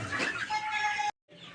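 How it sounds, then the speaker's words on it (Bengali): Chickens in a packed poultry shed holding around 800 birds, clucking and calling closely and busily for about a second before a brief gap, then softer flock noise resumes. "এই ঘরেও মুরগি আছে অনেক।"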